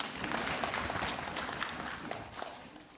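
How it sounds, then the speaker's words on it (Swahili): Dense, steady applause from a crowd, many hands clapping at once with no pauses, fairly loud and filling the whole moment. "Makofi kwa mgeni rasmi."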